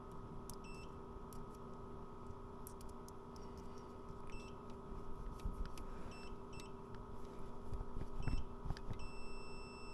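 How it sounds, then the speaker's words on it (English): An electrical continuity tester beeps in short, high, thin tones as its probes touch dirty wiring connectors on a 1979 Porsche 924. The intermittent chirps come in small clusters over a steady low electrical hum. "Then if I just put this up and touch on here, you get the beep."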